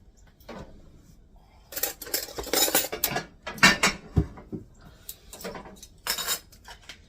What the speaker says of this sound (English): we got to get a couple spoons